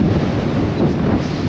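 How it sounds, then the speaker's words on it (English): Strong wind batters the microphone on the coastal headland at Duncansby Head in northern Scotland, a loud, continuous buffeting rumble with no voices over the short stretch. "The conditions are horrendous, it's so windy."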